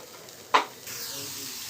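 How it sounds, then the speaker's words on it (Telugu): Meal maker soy chunks fry in oil in a pan: a short clatter, then a steady close hiss of sizzling that carries on to the end. "మరలా నూనె వేసేసి మరలా వేయించేసుకోవాలి ఇందులోనే మిల్ మేకర్ మిగిలినవి ఉన్నాయి కదా"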